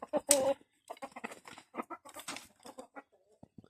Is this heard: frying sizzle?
no